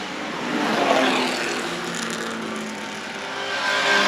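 A vintage Austin Healey 104 four-cylinder race car passes at a vintage grand prix, its engine note swelling, fading and rising again over a few seconds at moderate distance, with no voices.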